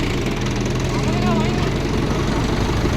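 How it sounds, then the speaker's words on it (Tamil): A tractor engine drones loud and steady while riding along through a coconut grove, a constant low rumble filling the whole stretch with a voice faintly beneath it. "டிராக்டர் வண்டியில் போயிட்டுருக்கோம்"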